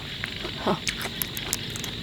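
A few short frog calls croak and chirp against a steady outdoor hum in the evening in rural Thailand, scattered irregularly over a couple of seconds.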